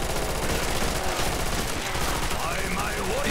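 Rapid automatic gunfire from an MP4 rifle in a custom zombies mode of Minecraft, a dense continuous rattle of shots filling the clip at steady loudness.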